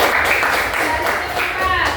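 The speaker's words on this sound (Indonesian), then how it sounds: "Kasih tepuk tangan dulu" A classroom full of people claps together, a dense patter of applause with voices mixed in underneath.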